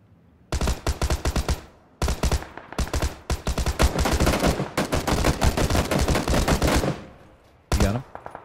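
Automatic gunfire in PUBG, several loud bursts of rapid shots in quick succession with short pauses between, ending in a final brief burst.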